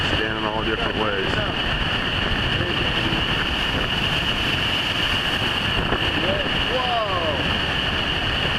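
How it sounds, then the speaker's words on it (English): Big storm waves crash and churn at the Chetco River south jetty during a flood, a continuous loud roar of water mixed with wind noise, with brief voices talking over it. "Look at the size of these waves."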